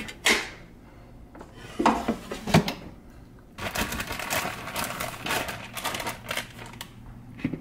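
A plastic cooking basket is pushed into a Power XL air fryer for chicken wings, with a few sharp clunks and knocks followed by a stretch of close rustling and handling noise.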